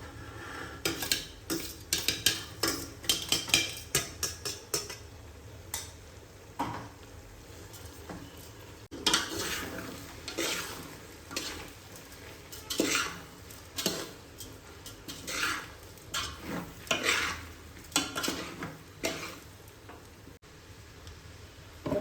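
A spoon stirs flattened rice (poha) with potatoes in a pan, giving repeated close metallic scrapes and clinks against the pan in irregular bursts with short pauses, and no talking.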